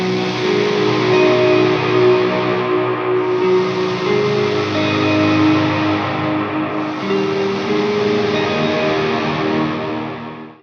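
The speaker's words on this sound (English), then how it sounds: "use distortion in your ambient guitar music to create big growling chord swells like this" Ambient electric guitar chords played through heavy distortion and reverb, swelling slowly into big growling sustained tones that overlap and fade in and out in long washes, loud and alone.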